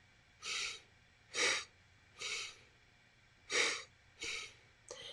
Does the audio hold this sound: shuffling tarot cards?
no